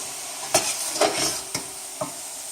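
Red pepper dropped into kale wilting in a hot frying pan, with a steady sizzle and several sharp stirring scrapes and clatters of the pieces landing, close and clear with no talking.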